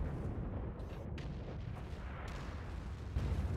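An artillery piece fires in the World of Tanks video game, a deep rumbling boom with a long rolling tail over steady low battle noise, no voices.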